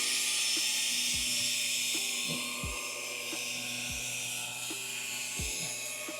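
A brush works BioBreak cleaner into a stain during car detailing, giving a steady buzzing whir with a low hum and periodic thumps roughly every 1.3 seconds. The noise is continuous, close to the mic, and without speech.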